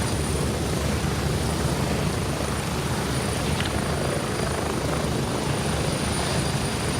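Helicopter flying in the military shooter game Gray Zone Warfare, a loud constant rotor and engine roar filling the whole stretch with no talk over it.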